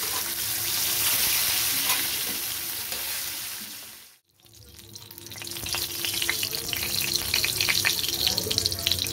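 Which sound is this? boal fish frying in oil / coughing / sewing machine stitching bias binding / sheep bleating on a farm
boal fish frying in oil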